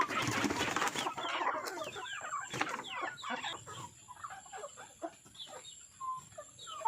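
A group of chickens clucks and murmurs busily up close while being fed unhusked rice grain, with overlapping soft calls and scattered pecking and scratching sounds.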